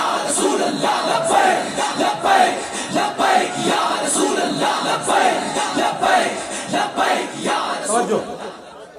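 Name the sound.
crowd chanting the Labbaik slogan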